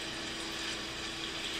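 A chicken broth and flour gravy comes to a boil in a cast iron pan, giving a steady close bubbling hiss with no voices over it.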